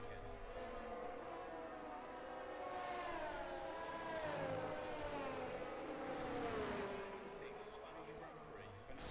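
Racing cars in a sim racing league race at Spain, a pack of engines droning and shifting pitch together with rising and falling whines, steady and moderately loud throughout.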